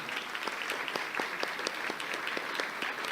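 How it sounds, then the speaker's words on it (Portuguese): An audience applauds a man named Toninho at a public talk, producing a steady, fairly quiet patter of many hands clapping, somewhat distant and even in rhythm, with no speech over it. "uma salva de palmas para o Toninho"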